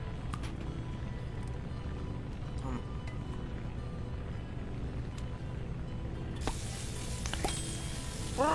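A steak sizzles in a skillet in the video game Octodad, giving a steady hissing fry with light clinks and game sounds layered over it.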